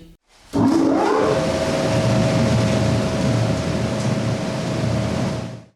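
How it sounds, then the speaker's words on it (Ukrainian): A newly installed ventilation fan switches on in a school bomb shelter, a sudden loud, steady whoosh of rushing air after a brief quiet start, holding constant with a faint tonal hum until it fades at the end. "зробили чистку вентиляційних труб і новий вентилятор включили"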